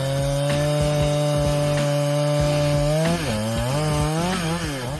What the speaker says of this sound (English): Using a Husqvarna 395 XP chainsaw, the woodworker expertly and efficiently sawed down this finest teak tree.